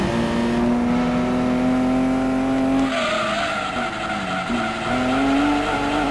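A race car in the Gran Turismo 2 video game growls steadily while drifting, its engine tone droning with shifting pitch as tires squeal and skid partway through, loud and without talk.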